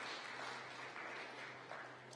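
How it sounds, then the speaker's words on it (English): Faint, steady applause from an audience at a meeting, a soft continuous wash of clapping honoring Dr. Chacha, heard alone for about two seconds. "Can we please give Dr. Chacha a round of applause"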